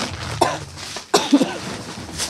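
Two short, harsh coughs a moment apart, close by, with a brief throat-clearing sound after the second.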